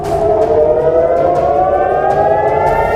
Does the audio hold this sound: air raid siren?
yes